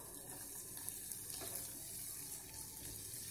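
Chopped onion sautés in butter in a pan over full flame, giving a steady, soft, continuous sizzle with no talking.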